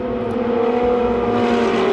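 Ferrari Challenge race cars of the Copa Shell class accelerate up the hill at Circuit of the Americas after a start, a loud, steady rising engine whine with layered harmonic tones, close and sustained.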